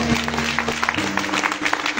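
Audience applause greets a singer at a concert: a dense, continuous wash of clapping with scattered sharper claps, joined by a sustained tonal hum from the stage sound that cuts out midway.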